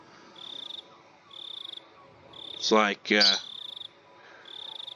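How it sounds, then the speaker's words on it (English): Crickets in the game Higurashi chirp in short, evenly spaced trills at a steady rhythm, fairly faint, while a voice briefly speaks over them midway. "crickets, they're noisy bastards, aren't they?"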